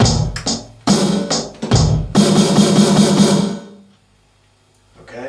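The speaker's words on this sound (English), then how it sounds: "then just starts a small snare drum roll only" A drum kit plays a few separate bass drum hits, then a short snare drum roll, part of a pattern from a song. It is close and loud, then drops to near silence.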